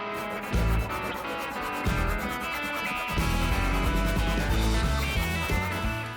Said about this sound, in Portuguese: Vou aproveitar com um serrote retirar essas sobras.